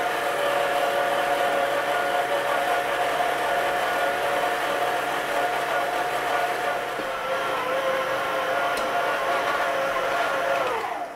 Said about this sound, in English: So I'm just going to turn the mixer off, so obviously you can hear me on the audio.